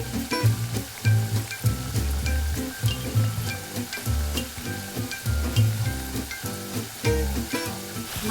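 Tempeh frying in a pan as about 200 ml of water goes in, producing a loud continuous sizzle with rhythmic bubbling pulses throughout; no talking.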